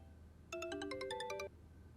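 A phone ringtone signals an incoming call: a bright, melodic sequence of electronic tones plays for about a second over a quiet background, then stops, with no speech.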